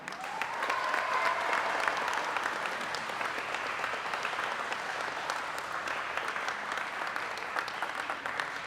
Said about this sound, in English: if I can get everyone to give them a big round of applause